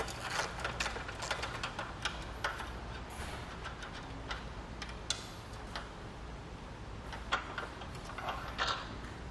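Light metallic clicks and ratcheting of a 10mm socket wrench as carrier bolts come off a Yakima DoubleHaul rooftop fly rod carrier, a faint irregular series of ticks at close range with no talking.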